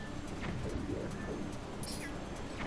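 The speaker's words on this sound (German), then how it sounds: "Oh, der Vogel." A bird in The Legend of Zelda: Twilight Princess HD gives a few soft, dove-like coos over a constant in-game ambient bed, with no voices.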